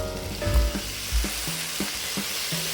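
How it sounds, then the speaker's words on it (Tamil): Shallots and tomatoes sauté in a pan for a fish curry, a steady close sizzle broken by rhythmic scrapes of a spatula stirring. "சின்ன வெங்காயம் நல்லா பொன்னிறமாக வர வரைக்கும் நல்லா வதக்கிக்கோங்க."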